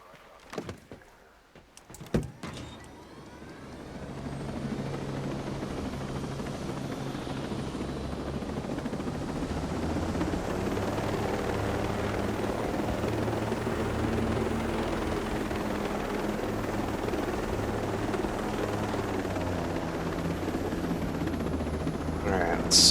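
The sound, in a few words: helicopter flying in video game Ghost Recon Breakpoint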